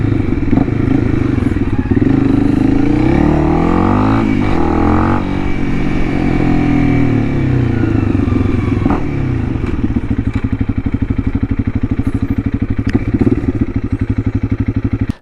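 A Honda CRF 300L motorcycle with a 550Performance ECU tune revs and accelerates up close, its engine rising and falling in pitch, loud and continuous, with wind noise.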